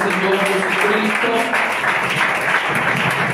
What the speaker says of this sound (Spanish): Denle un aplauso nuevamente al Señor Jesucristo